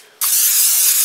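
Cooking spray hisses into a 9x13 baking pan in one continuous, close, loud burst that starts abruptly and holds steady.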